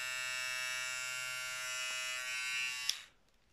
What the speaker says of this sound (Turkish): Tekrar çalıştıralım. On off yani tek kademeli on off yani şöyle. Bakın güçlü bir motor.